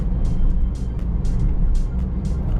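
Toyota Yaris pulling away without a turbo, a steady car engine drone heard from inside with road rumble and faint intermittent hiss above it.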